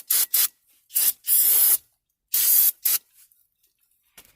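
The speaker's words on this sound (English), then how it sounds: "Use some brake cleaner." Brake cleaner sprayed onto the rear brakes of a 2012–2014 Dodge Charger in five close, loud hissing bursts of varying length, the third and fourth long and steady, followed by quiet and a faint clink.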